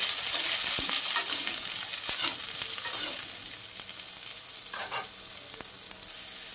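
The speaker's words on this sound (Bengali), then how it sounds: "সবশেষে বেগুনটাকেও ভেজে নিতে হবে।" Eggplant frying in mustard oil in a kadai, a constant bright sizzle with sharp scraping and knocks of a spatula stirring the pieces at intervals.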